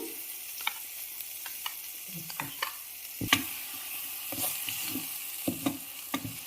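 Mint chutney fries in oil in a pan with a steady crackling sizzle, broken by sharp scraping stirs of a spoon against the pan at irregular intervals, close and fairly loud, with no voices.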